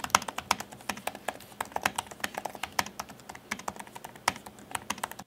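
Typing on the shallow-travel keyboard of a 15-inch MacBook Pro, with a quick irregular run of light, crisp key clicks close to the microphone and no talking.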